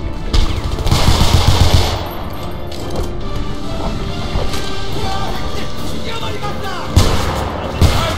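Shotgun blasts in the video game Homefront, several booming shots spread across the clip over dense battle noise with sustained gunfire and explosions.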